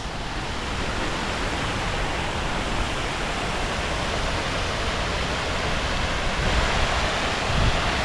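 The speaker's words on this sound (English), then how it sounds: "calming sounds of the fountains." Fountains at the Jacksonville Riverwalk by the St. Johns River splash in a loud, continuous, broadband rush of falling water that stays even throughout, with no voices.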